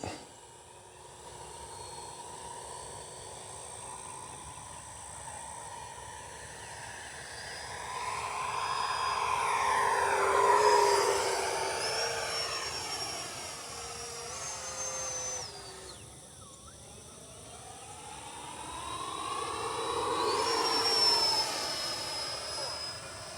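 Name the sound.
Freewing Ares 3D 90mm RC jet flying a pass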